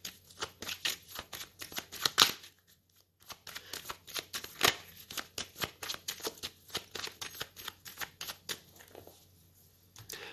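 A tarot deck used for readings is shuffled and cut by hand: rapid repeated riffling card snaps in bursts with brief pauses, close and fairly quiet, no voices.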